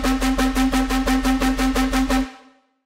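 Drum and bass bass sound processed with FabFilter Pro-R reverb: a steady pulsing bass line with repeated rhythmic hits for about two seconds, then cutting off into a short reverb tail that fades out, with no talking.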